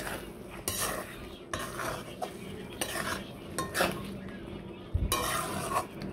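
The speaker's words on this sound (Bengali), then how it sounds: "নেড়ে নিচ্ছি।" Butter is stirred in a pan while shahi paneer cooks, giving repeated scraping and clinking strokes of a utensil against metal over a soft, low sizzle, with no voices.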